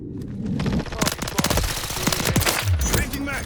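Rapid automatic gunfire bursts in Call of Duty Modern Warfare 3, close and loud, rattling in quick volleys with a brief voice under the shots.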